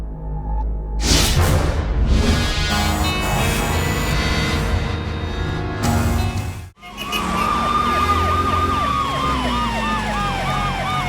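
An ambulance siren in a scene from the Malayalam film Puthiya Mugham: a loud, close electronic wail first blends with surrounding noise, then after a brief drop rings out clearly in rapid rising and falling sweeps.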